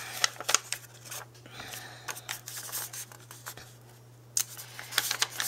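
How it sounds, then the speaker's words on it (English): Scissors trimming excess material from a handmade shaker belly band card, a few crisp snips and rustles close by, with faint talk and a steady low hum behind. "So now I'm just going to cut off this excess."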